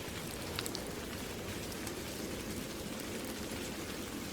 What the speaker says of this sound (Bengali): ঝমঝম করে পড়ছিল বৃষ্টি